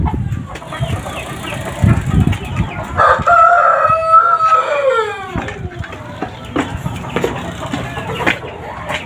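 Breeding hens and a rooster on a farm raising poultry on maggot-based feed, with clucking and a loud, close crow near the middle, then more scattered clucks and calls.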